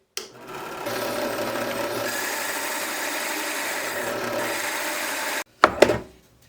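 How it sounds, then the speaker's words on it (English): A drill bores into fiberglass while a hurricane-damaged sailboat is repaired. It gives a steady, close grinding whir for about five seconds, stops abruptly, and is followed by a few short knocks and scrapes. "So let me go ahead and drill this."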